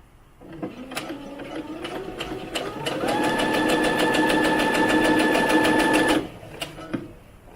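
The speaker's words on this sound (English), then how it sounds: "we're going to sew it like that." A sewing machine stitches the sleeve hem of a doll's top, starting with slow uneven runs, then settling into a steady, fast, close whir for several seconds before stopping abruptly.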